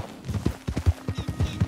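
Hooves of the horse Roxanne in Red Dead Redemption 2 clop in a quick, steady trotting rhythm, close and fairly loud over a faint low hum.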